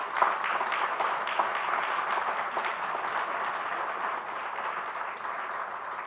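A church congregation applauds for the Lord, a steady, dense wash of many hands clapping that holds at an even level from start to finish, with no speech over it.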